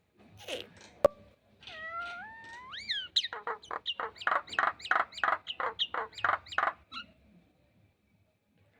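A voice imitating a cat: a drawn-out rising wail, then a quick run of about a dozen short, rhythmic meows, fairly close.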